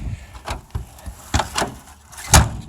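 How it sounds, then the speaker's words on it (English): Several thumps and clunks of an old Oldsmobile's door being handled and shut in a junkyard, ending in one louder solid slam, close by in a quiet setting. "Just the sound of that door closing brings back memories."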